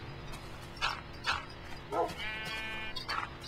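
Sheep in the Minecraft video game bleat in a few short, moderately loud calls spaced about half a second apart, over a steady low background hum.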